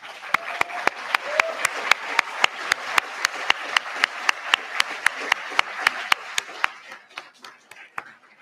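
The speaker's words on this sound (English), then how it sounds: "give your loudest round of applause to all those who have contributed to who we have become today" A graduating medical school class at a graduation and hooding ceremony claps in slow, rhythmic unison, sharp synchronized beats about three per second under a light crowd murmur, growing uneven and tapering off at the end.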